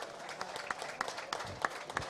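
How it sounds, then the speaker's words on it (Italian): Scattered hand clapping from a small group at an amateur football gala, quiet and uneven with a few sharper claps standing out, fading in and out over a couple of seconds. "Un applauso alla seconda categoria."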